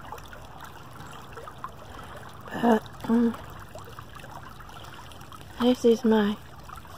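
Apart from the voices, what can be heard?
creek water trickling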